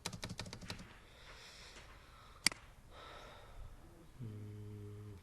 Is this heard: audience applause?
no